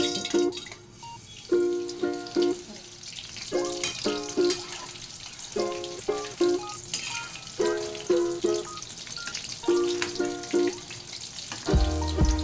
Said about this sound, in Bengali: আমাদের প্রন টেম্পুরা কিন্তু ঠিক এইরকমভাবেই ভাজা হবে